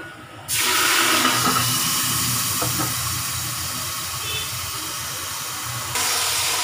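Water poured onto lightly browned onions in a hot pan for aloo biryani sets off a sudden loud hiss. The sizzle and steam continue steadily close by with no talking.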